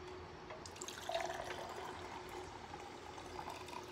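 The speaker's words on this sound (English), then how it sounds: "it's going for the pour." Carbonated Smirnoff Ice Smash lemon lime being poured, a steady liquid splash and fizzing stream lasting the whole moment, fairly close and moderately quiet with no voices.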